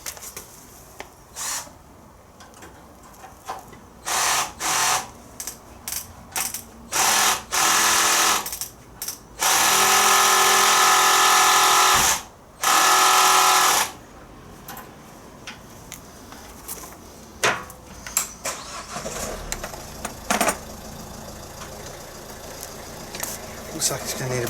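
A normal electric drill set to 2 on the torque setting drives sockets while work is done on the chassis of a 1972 Triumph Spitfire. It gives a series of short, loud whirring bursts and one longer run, with quieter clicks and movement between them.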